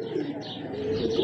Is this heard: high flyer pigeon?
yes